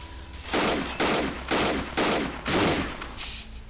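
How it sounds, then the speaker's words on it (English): Gun turrets in a video game fire in rapid bursts, about five loud, close volleys of automatic gunfire following one another at a steady pace. "Also, you'll notice there's gun turrets now."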